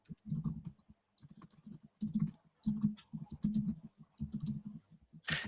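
Fast typing on a computer keyboard in short irregular bursts of clicks, close and fairly quiet, with brief pauses between runs during a locksport hangout.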